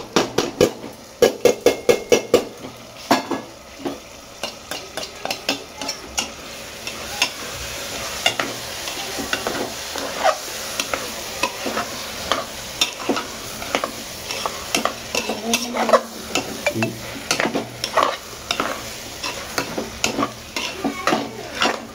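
Dal, tomatoes and onions stir-roasted together in a pan for khichdi: a spoon knocks and scrapes rhythmically against the metal, with quick clatters at first, over a steady low sizzle that lasts throughout.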